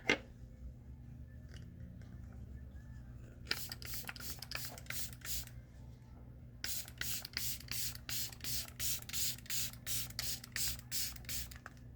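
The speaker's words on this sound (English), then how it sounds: "So for mask, I'm going to spray my face." Several bursts of a facial mist spray hiss onto a face, a first group then a longer run of quick regular puffs, close and fairly loud over a low steady hum.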